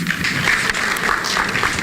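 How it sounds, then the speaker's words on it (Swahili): An audience at a public event breaks into applause during a speech about cancer diagnosis and treatment, dense and sustained clapping from many hands at moderate distance. "Makofi."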